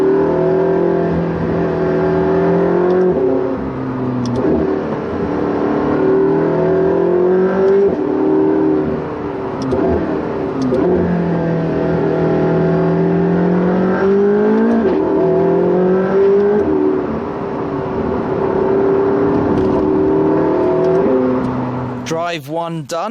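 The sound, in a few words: McLaren 675LT engine accelerating on a hard run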